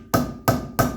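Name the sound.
rubber hammer tapping a dust cap onto a Mercedes wheel hub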